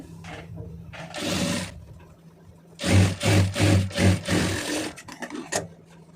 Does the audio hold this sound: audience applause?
no